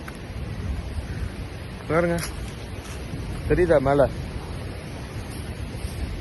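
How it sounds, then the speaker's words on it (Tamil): Strong gusting wind with rain coming on outdoors on a walk in Uttar Pradesh, India, a steady broadband roar of wind noise across the whole stretch, with someone talking briefly over it. "சரியான காற்று"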